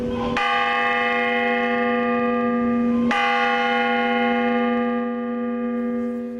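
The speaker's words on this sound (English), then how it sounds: "Mayor Jonathan Rothschild rang a bell for each of the victims." A memorial bell rung by a mayor for each victim of a 2011 shooting, two clear strikes about three seconds apart, each leaving a long, bright, ringing hum that hangs and slowly fades.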